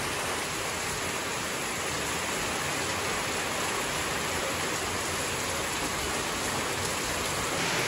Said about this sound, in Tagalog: Biglang buhos na naman ng malakas.